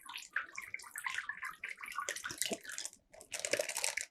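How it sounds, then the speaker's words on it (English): Water pours out of the holes of a punctured bag in a school hydrostatic pressure demonstration, a steady faint splashing trickle that surges and dips, close by and alone. "you can see through all the holes water is exiting"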